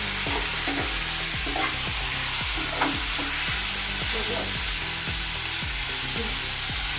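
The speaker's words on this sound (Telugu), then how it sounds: "టమాటోస్ వచ్చేసి కొంచెం ఫ్రై అవ్వాలండి," Tomatoes frying with minced keema in a pan, a steady close sizzle with repeated stirring scrapes in a regular rhythm throughout, no voices.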